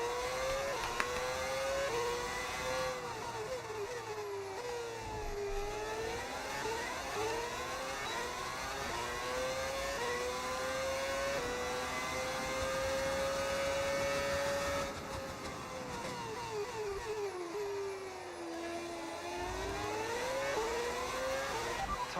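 Formula 1 car engine in the F1 26 racing game, a loud continuous high-pitched whine rising and falling steadily through upshifts and downshifts as the car laps the circuit, with no talk over it.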